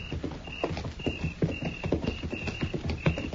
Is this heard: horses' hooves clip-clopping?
yes